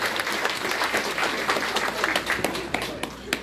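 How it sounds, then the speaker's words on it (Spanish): An audience at a mass wedding ceremony applauds a couple, a lively, dense burst of clapping from many people close by, with scattered sharp individual claps standing out from the crowd. "Otra vez los aplausos para ellos"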